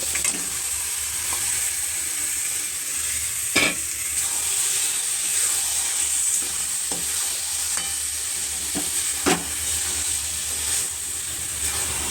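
Goat meat hits spiced oil in a pan, giving a steady loud sizzle with occasional stirring clatter and sharp pops over about twelve seconds, no talking.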